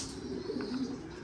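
Pigeons coo softly and close by, a couple of low rounded calls in quick succession, from birds kept at a water dish.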